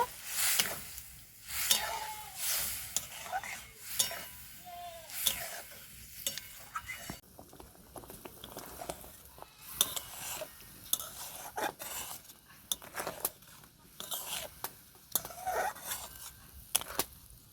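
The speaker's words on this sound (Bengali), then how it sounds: "টক দইটা ভালো করে মিক্স করে নেব।" A spoon stirs sour yogurt into aloo kofta curry in a pan, making repeated close scraping and clinking strokes against the metal with a soft sizzle beneath, steady and fairly quiet throughout.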